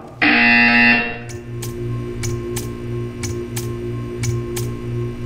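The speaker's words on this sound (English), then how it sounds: "You will hear a buzzer." A loud, harsh electronic buzzer in Portal 2 blares for about a second, then a steady ticking hum with periodic clicks continues.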